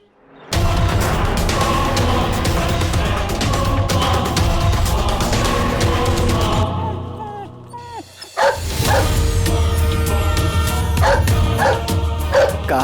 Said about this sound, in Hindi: काहे इतना भौंका तड़ा?